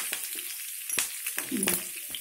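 Hot oil pops and spits as mustard seeds, cumin, dried red chillies and curry leaves temper in the pan, heard close as scattered crisp crackles over a continuous sizzle.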